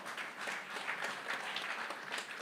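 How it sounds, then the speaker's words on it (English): Brief, steady applause from an audience at a teachers' union conference opening ceremony, a moderately loud wash of clapping hands throughout. "Let us give them a round of applause."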